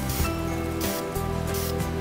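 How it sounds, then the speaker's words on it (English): A can of spray primer hisses onto a hobby model in a couple of short, quick bursts separated by gaps, close and fairly loud, with no voices. "when we're actually spraying the model, you don't want to hold the button or press the little trigger thing down for very long"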